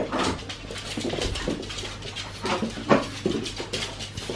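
Two small pet dogs whimper, whine and give short muffled barks close by indoors, uneven yelps rising over shuffling noise.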